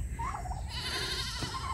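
A goat bleats nearby in a wavering, drawn-out call, with a shorter bleat earlier, over quiet outdoor background.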